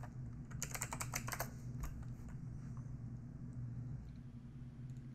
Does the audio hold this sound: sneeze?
no